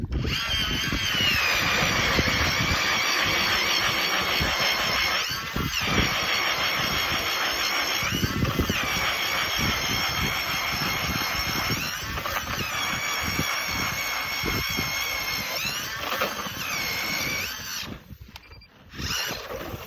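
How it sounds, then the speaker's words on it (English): A loud, steady mechanical whine of a powered drill boring a hole through thick lake ice, running continuously, with grinding and rattling underneath, cutting out briefly near the end. "So I'm going to drill a hole here."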